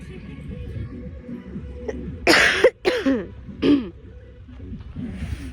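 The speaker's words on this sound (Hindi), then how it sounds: "खांसी हो गई, जुकाम हटा तो खांसी हो गई" A few rough coughs or throat-clearing bursts in quick succession, close and fairly loud, over a quiet background murmur.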